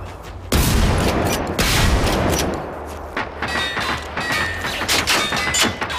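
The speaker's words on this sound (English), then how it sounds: "I'm shooting." Loud, dense gunfire from the video game Generation Zero, with rapid overlapping shots and heavy booming bursts in near-continuous volleys throughout the firefight.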